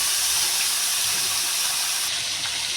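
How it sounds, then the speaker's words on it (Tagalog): Tomatoes simmering in a pan for an ampalaya (bitter melon) dish give off a steady, close hiss of steam and bubbling, with no talk. "nakikita nyo kumukulo na yung kamatis natin"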